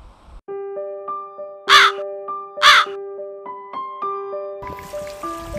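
Two loud, harsh crow caws ring out close by, spaced about a second apart, over a soft, steady melodic music bed.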